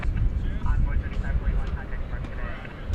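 A plane taking off from runway 18 left at DFW Airport during evening plane-spotting, a steady broad low roar of jet engines holding at a constant level for the whole stretch, with faint radio chatter mixed in.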